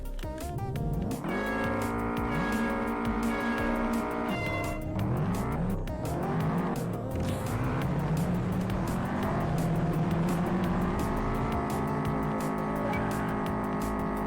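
A Subaru Impreza in the Juiced racing video game drives with a loud, continuous engine note that revs up and down through repeated gear shifts, with occasional tire squeal.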